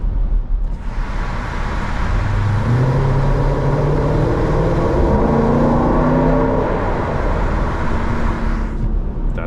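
A 2020 Jeep SRT accelerates through New York City traffic, its engine building in a rising, continuous roar from inside the cabin over steady road noise for several seconds before cutting off.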